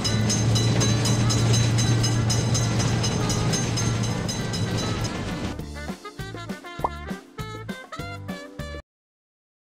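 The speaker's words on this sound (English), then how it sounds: "Quick train is noticed." A quick train speeds past a railroad crossing in a simulator video game, heavy continuous roar giving way to fast clickety-clack beats before cutting to silence near the end.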